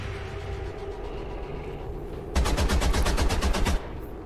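A loud, rapid automatic burst of gunfire from the video game XCOM 2 (War of the Chosen), roughly a dozen evenly spaced shots lasting over a second, cutting in abruptly over a steady game background and then stopping.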